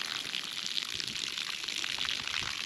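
Water rushes from a frostline hydrant with low pressure, a steady close splashing hiss running without a break for a few seconds, no voices.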